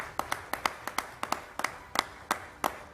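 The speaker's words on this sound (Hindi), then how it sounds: "इन तालियों में मुझे मजा नहीं आया" Audience clapping at an awards event: sparse, distinct claps in a loose rhythm, about a dozen sharp hits over a few seconds, moderately loud and fairly close, with no talk over them.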